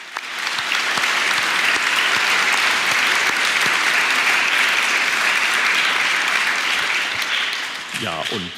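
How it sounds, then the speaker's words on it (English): A large audience at the European Charlemagne Youth Prize award ceremony in Aachen gives loud, sustained applause that fills the hall for several seconds, then fades as a voice begins speaking at the end. "deserve a thunderous round of applause"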